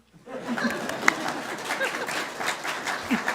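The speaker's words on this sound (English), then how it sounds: "Clap for me." A small gathering at a celebration-of-life service claps for a few seconds, moderate applause mixed with murmuring and light chatter.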